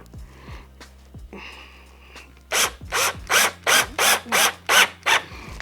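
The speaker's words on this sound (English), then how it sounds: "I'm going to the lowest power setting on my drill, and that's how I'm gonna do it." A power drill on its lowest power setting whirs in eight short, even bursts, each a brief buzzing spin driving screws into plastic kayak track mounts, close by with faint clicks and rustling before the first burst.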